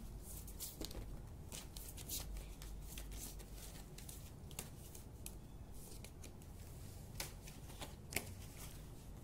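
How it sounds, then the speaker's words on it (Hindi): Large tarot cards being shuffled by hand, a steady papery riffle and rustle with sharp flicks scattered throughout, close and fairly quiet, with no talking. "इसे मैं ऐसे शफल कर लेती हूँ, काफी बड़े टेक है।"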